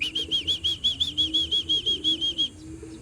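A racing pigeon flaps its wings in a quick, steady run of about a dozen whooshing beats, close and clear over a faint background hum, then the flapping stops.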